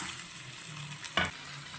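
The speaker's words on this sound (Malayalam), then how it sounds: "ഇനി ആ സൈഡും കൂടെ നന്നായിട്ടൊന്ന് ഫ്രൈ ആവട്ടെ" Sardine fish frying in a pan after being flipped, a steady close hiss of oil with one brief louder burst partway through, no voices.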